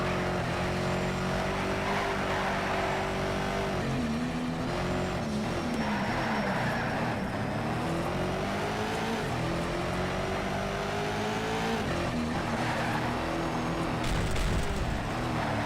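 Truck racing in Need for Speed Shift 2: Unleashed, with a steady loud engine drone that rises and falls through gear changes, plus faint tyre noise, running continuously with no talk.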